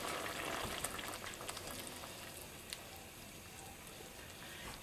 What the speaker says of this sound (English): can see it's bubbling away